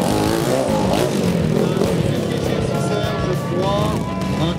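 Three-cylinder motorcycle engine at an impossible hill climb in Muhlbach, revving hard with a loud, rising and falling roar and whine close by, while a commentator talks over it.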